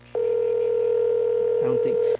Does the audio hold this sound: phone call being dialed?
yes